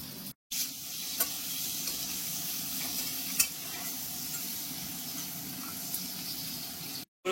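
Chopped onions are tossed into a pan of fried potatoes, giving a loud, constant sizzle of hot oil with occasional stirring clicks and scrapes, and no voices.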